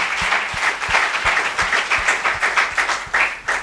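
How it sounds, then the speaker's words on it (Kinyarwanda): A church congregation applauds in praise of Jesus during a bilingual Kinyarwanda–French sermon, with steady rhythmic clapping building into loud, fairly close applause that continues throughout. "Dukomere amashyi Umwami Yesu."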